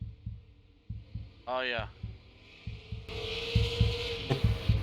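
Simulated heartbeat thumping for a driver during a Buttkicker Super Late Model Series sim race at Langley: a steady low double-beat pulse runs throughout, with a brief voice and broadband engine-like noise layered over it.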